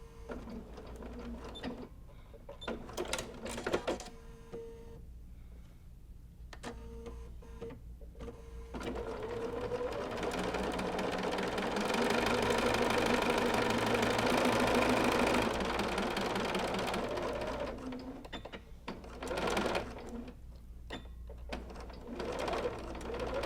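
Sewing machine running a straight line of stitching down the middle of a raw-edge applique stem on a friendship quilt block, with short bursts for backstitching at each end, then a long steady whirring run, close and clear.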